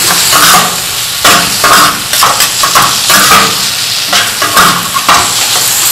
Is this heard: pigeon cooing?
no